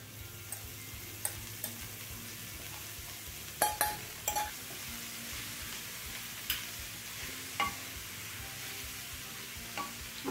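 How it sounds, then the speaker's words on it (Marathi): Fenugreek leaves stir-fried in a pan over a high flame, a steady close sizzle broken by scattered spatula scrapes and clinks against the pan, with no talking. "आपल्याला हाय फ्लेम वरती 2-3 मिनिटं ही मेथी परतून घ्यायची आहे."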